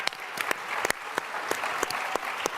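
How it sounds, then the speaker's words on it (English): Steady applause from an audience after a panel discussion, a dense patter of many hands clapping with a few sharper claps standing out, continuous throughout. "please give a round of applause to this incredible panel."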